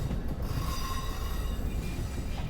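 Train metal wheels roll and clatter along railway tracks with faint squealing tones, a steady rumbling passage heard at moderate distance without speech.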